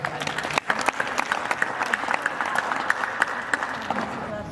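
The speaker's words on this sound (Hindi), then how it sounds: "ताली बजा दो जी एक बार।" Guests at a Hindu wedding ceremony break into sustained applause during the pheras, a steady crackle of many hands clapping together with a few voices mixed in.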